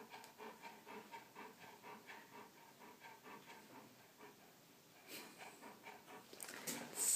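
A dog pants steadily in quick rhythmic breaths, close and fairly quiet, while cats wander nearby; the breathing fades a little midway and then builds again toward the end.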